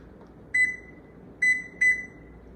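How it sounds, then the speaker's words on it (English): Three short, clear electronic beeps from a microwave oven keypad as the timer is set, the second and third close together, alone over a quiet room hum. "I'm gonna go ahead and set the microwave for 3 minutes"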